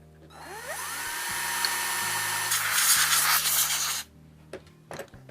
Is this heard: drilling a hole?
yes